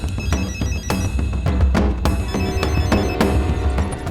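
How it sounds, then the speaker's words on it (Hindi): A telephone rings with repeated sharp electronic tones over a busy, dense background, each ring a bright burst recurring at short intervals, loud and close. "मुझे एक फोन आया।"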